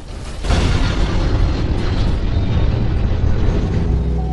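A huge, roaring explosion hits suddenly and then rumbles on as a dense, sustained wall of noise without fading.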